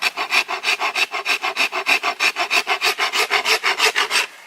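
A rasp files a bamboo bow limb in quick, even back-and-forth strokes, about five or six per second, a close, crisp scraping rhythm with no voices.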